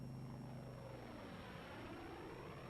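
Low-flying World War II P-47 Thunderbolt fighter planes coming in to land, their piston engines producing a loud, steady, close roar that holds throughout with no voices.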